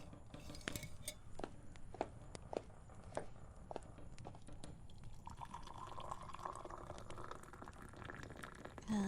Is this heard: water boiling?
yes